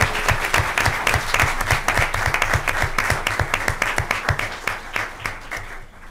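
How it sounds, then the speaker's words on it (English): An audience at a school board meeting applauds elementary school students, loud clapping with a strong, regular beat of sharp claps running through it that thins slightly near the end. "Let's give these wonderful students one more round of applause."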